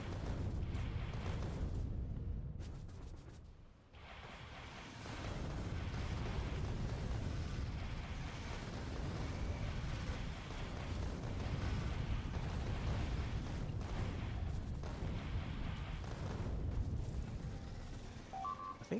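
Rocket explosions in Factorio Space Age, a dense, continuous barrage of rumbling booms and bursts that runs almost without pause, dipping briefly early on before roaring on loudly.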